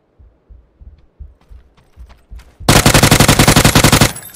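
PUBG video game gunfire: a few scattered distant shots and thumps, then a loud, close sustained burst of rapid automatic fire lasting over a second.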